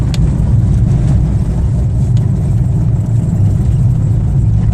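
A car travelling at about 60 along a dirt field road, a steady loud low rumble of engine and tyres with no breaks, close inside the cabin and no talking.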